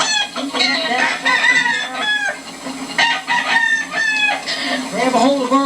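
A rooster clucks and crows repeatedly while being caught with a net and handled in a holding pen, loud and close, with busy overlapping calls throughout.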